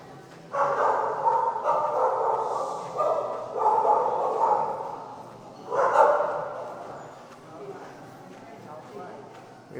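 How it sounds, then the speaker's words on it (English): Dogs bark outdoors at Fort Myers Beach, Florida, during Hurricane Helene, a string of moderately close barks and yips in uneven bursts with people talking over the same stretch. "We have dogs."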